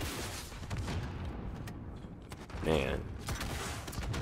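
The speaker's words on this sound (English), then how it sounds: "I've never used RPGs in none of the Call of Duties, but this one?" An RPG rocket launcher fires and explodes in Call of Duty Modern Warfare amid constant game gunfire and clatter; a sharp, louder burst lands midway, with a voice speaking briefly.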